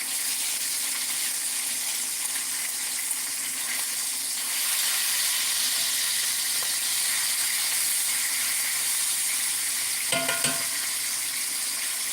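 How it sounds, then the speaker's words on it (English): Meat fries in a pan with its fat rendering out, a steady close sizzle and crackle running throughout, broken by a brief clink of a utensil near the end. "once the fat starts rendering out, it doesn't take long for them to get a little extra crispy"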